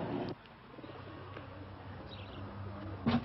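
Pigeons coo softly in a pigeon loft, low murmuring calls over a quiet background, with a couple of brief rustles.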